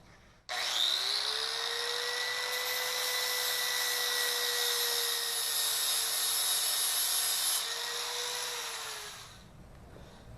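An 80 grit disc grinds down metal welds on a solar arch, a steady, loud, high-pitched whine holding for about nine seconds before tapering off, with no talking.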